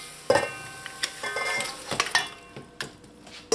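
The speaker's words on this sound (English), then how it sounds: "After your curry has been frying for that 2 minutes" Curry sizzling as it fries in a pot while a utensil stirs, with sharp scraping clinks and taps against the metal at irregular intervals.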